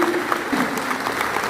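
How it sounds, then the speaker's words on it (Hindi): Audience applause breaks out at a Tipra community political speech, a steady dense wash of clapping from a large crowd with voices faintly mixed in, continuous and fairly loud throughout. "तो जोर से ताली दो।"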